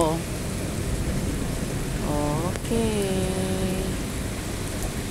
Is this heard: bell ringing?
no